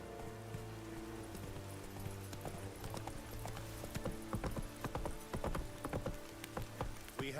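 Roach the horse gallops in The Witcher 3, a quick run of hoofbeats that grows louder and denser toward the end over a quiet bed of rain, with no talk.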